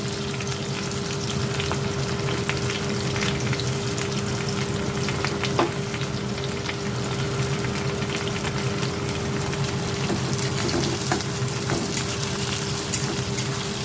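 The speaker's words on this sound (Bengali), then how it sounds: "এগুলো দিয়ে ভালো করে আগে ভাজবো" Capsicum and chopped onion frying in oil with a constant crackling sizzle throughout, a low hum underneath and occasional utensil taps, no voices.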